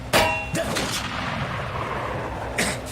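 A sniper rifle shot rings out in Metro Exodus, a sharp loud crack near the start followed by a second report, then lingering battlefield rumble and another burst near the end; a voice shouts briefly.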